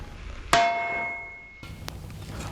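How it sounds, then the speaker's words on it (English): A blacksmith's hammer strikes hot metal once with a loud ringing clang that decays slowly, followed by a softer second metallic tap and quiet room noise. "end each hammer stroke with a snap that speeds up the hammerhead right before it impacts the metal"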